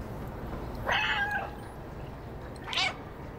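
Two meows from the cat in the video game Stray, one drawn-out call followed about two seconds later by a shorter one, clear and fairly close over a low background hum, with no talking.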